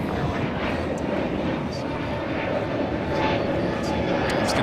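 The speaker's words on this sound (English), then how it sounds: "102 taking off to Seoul on a 787-9 Dreamliner" A Boeing 787-9 Dreamliner takes off from LAX, bound for Seoul, producing a loud, steady broadband jet roar that holds throughout with only slight swells.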